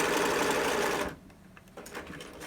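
A sewing machine back stitches over elastic on a large adult face mask, a loud dense run of rapid stitching that cuts off abruptly, followed by softer clicks and handling of fabric.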